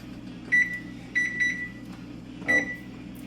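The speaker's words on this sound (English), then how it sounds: "I'm going to start the timer now just to give it a little head start" A kitchen timer set while macaroni and cheese is made, four short, sharp, high beeps at uneven spacing, fairly close and clear above a low background hum.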